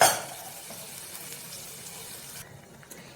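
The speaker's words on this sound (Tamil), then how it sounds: "இதுக்கு தேவைக்கேற்ப நம்ம தண்ணி சேர்த்துக்கலாம்" Water being added to a pan of sambar with cooked dal; a brief splashy gush at the start settles into a soft steady pour and bubbling, fading near the end, close and fairly quiet.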